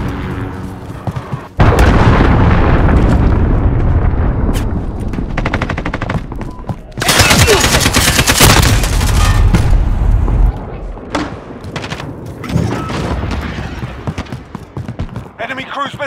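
Loud explosions and heavy machine-gun fire erupt in a Call of Duty Modern Warfare multiplayer match as a cruise missile strike lands, a roaring blast in the middle among dense rattling shots, with game voices calling out.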